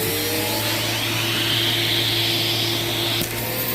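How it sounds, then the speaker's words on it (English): A vacuum cleaner hose sucks up guinea pig cage litter with a steady, loud motor drone and airy hiss, briefly changing pitch near the end. "I literally take the vacuum hose and I just go in and I suck it"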